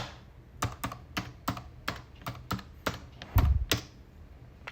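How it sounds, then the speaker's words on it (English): A password being typed on a computer keyboard: a steady run of about a dozen close, crisp key taps in an uneven rhythm, ending with a heavier thunk like the enter key. "Let me also type the password."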